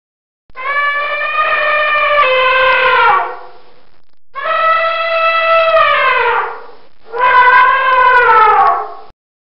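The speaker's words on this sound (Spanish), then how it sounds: "elefante," Three long, brassy trumpeting blasts of an elephant, each a few seconds with a slight falling pitch at the end, loud and separated by short pauses.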